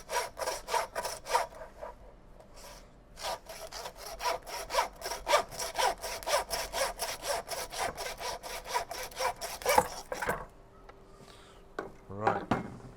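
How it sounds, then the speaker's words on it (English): A hand bone saw cuts straight through lamb rack bones in a fast run of rasping back-and-forth strokes, then stops for a few closing knocks and brief movement. "You do need to either get the butcher to do this for you or get yourself a bone saw"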